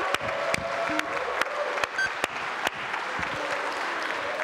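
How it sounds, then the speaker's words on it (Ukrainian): Sustained applause fills a parliament chamber after a law is passed, many hands clapping densely and steadily, with a few sharper claps standing out from the crowd. "І ще хвилина гучних овацій, навали емоцій"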